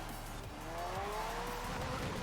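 An AI-driven car in the racing video game Forza Horizon 4 roars past with engine drone and rising tire squeal, close and loud, the pitch sweeping upward as it goes by.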